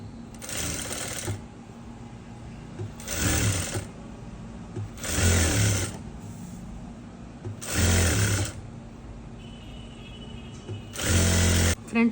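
A sewing machine stitches sari cloth to a lining for an umbrella dress in five short, loud bursts separated by pauses, with no talking.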